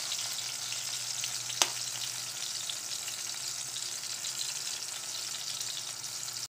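Garlic, onion and tomato sautéing in a pan, a soft continuous frying sizzle with one sharp utensil tap near the start, no voices.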